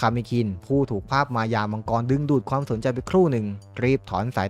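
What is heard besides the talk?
No distinct noise like a dog, phone or traffic.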